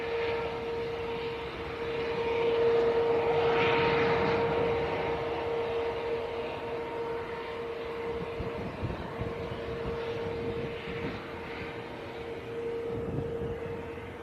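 Finnair airliner in from Helsinki at Manchester Airport, a steady distant jet engine roar with a sustained whine that swells briefly and then holds level, with no voices over it.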